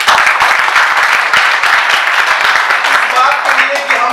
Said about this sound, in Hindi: तो जोरदार ताली बजाओ।